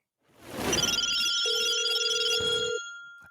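A telephone rings for a podcast call-in segment, a single sustained electronic ring with bright steady tones, loud and close, with no talk over it.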